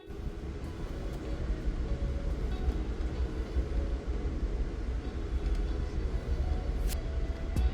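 Amtrak's Pennsylvanian passenger train runs on rails near Horseshoe Curve, giving a steady low rumble and rolling noise that holds throughout, heard from a moderate distance.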